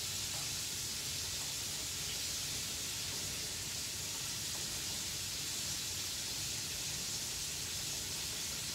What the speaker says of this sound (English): I'm just waiting on the sizzle on this chicken just to quiet down just a little bit.